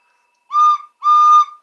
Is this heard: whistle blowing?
yes